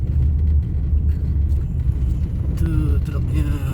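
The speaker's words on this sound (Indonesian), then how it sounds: "Tuh truk boksit," A bauxite-laden truck rolls along a steep climbing road on the overland route from Ketapang to Pontianak, a loud close low engine rumble with tyre roar throughout, while a voice talks over it.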